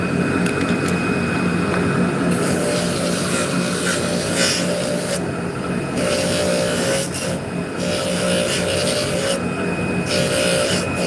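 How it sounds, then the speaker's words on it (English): Continuous rasping of sandpaper rubbing back and forth on a surface, with brief pauses between strokes, close up. "This is the first time I've been sanding on stream"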